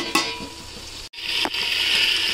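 Tomatoes and green chilies fry in a pot for chicken pulao, giving a steady close sizzle broken by a brief pause and a couple of stirring scrapes against the pan, with no talking.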